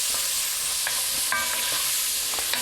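Celery and other vegetables sweating in bacon fat over lowered heat, a soft steady sizzle broken by several close scraping stirs of a spoon against the pot, no voices.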